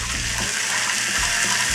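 A splash of water poured into a hot pan to deglaze a pork chop makes a loud, continuous hissing rush with sizzling, close and alone, lasting under two seconds.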